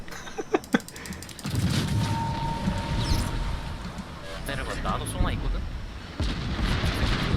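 Naval gunfire from enemy ships in World of Warships, heard as a dense, continuous rumble of shell impacts and booms after a few sharp early cracks, sustained loud throughout with a voice speaking over it.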